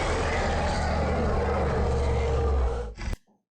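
A dragon roaring in World of Warcraft, a sustained loud, rough roar with deep rumble that cuts off abruptly, followed by a short faint growl.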